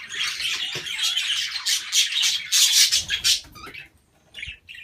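Pet budgies in an aviary chirp and squawk in a loud, close, busy chatter that runs almost continuously, dips briefly near the end, then resumes, with no voices.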